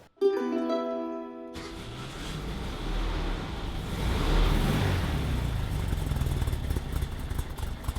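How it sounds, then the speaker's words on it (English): A 1964 Volkswagen Type 34 Ghia engine running as the car drives, a steady low rumble that swells slightly as it pulls along, preceded by a brief tonal sound at the start. "today we drove my 1964 Type 34 Ghia"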